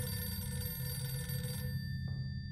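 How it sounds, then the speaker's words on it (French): A telephone rings inside a horror video game set in a haunted morgue, a steady electronic bell tone with bright harmonics that cuts off abruptly partway through, followed by quiet room tone. "Téléphone."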